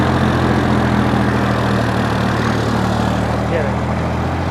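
A Sonalika DI-55III tractor fitted with a cultivator runs its diesel engine under steady load, trying to pull out of ground it has sunk into. A constant loud drone with a low hum holds throughout, close by and unbroken.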